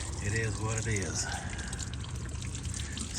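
Water trickles and pours steadily out of a pressure washer hose reel as it drains after a driveway cleaning, a continuous close splashing wash with a voice briefly over it at the start.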